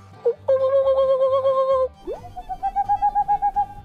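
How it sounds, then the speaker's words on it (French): A Tengmalm's owl calls in a beech forest, giving clear, fairly high hoots in quick series of evenly spaced notes, close and distinct over a quiet background. "la chouette de Teng Malm qu'on a entendue"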